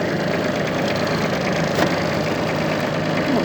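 A Japanese Kubota A-175 Aste mini tractor engine runs steadily at idle, a continuous mid-pitched chug with a faint knocking texture and no other sounds.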